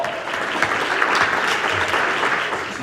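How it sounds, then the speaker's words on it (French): An audience at a public-speaking event gives a steady, dense round of applause, loud and even from start to finish with no speech over it. "se donner une bonne main d'applaudissement à chacun d'entre nous ici ce soir"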